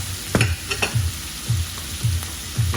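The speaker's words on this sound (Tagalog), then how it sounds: "Ginisa ko na rin po ang ating mushroom at konting chicken guys." Mushrooms and a little chicken, seasoned with salt and pepper, sauté in a pan, giving a steady sizzle broken by repeated bursts of stirring scrapes, close and moderately loud.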